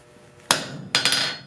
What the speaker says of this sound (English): I'm hammering these facets all on the same side.